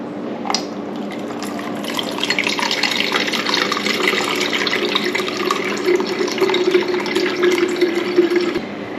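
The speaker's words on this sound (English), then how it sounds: "I'm just going to pour it through here and strain that pulp off." Homemade super tonic being poured through a sieve to strain off the pulp, a steady continuous splashing trickle of liquid, close and even, running without pause for several seconds.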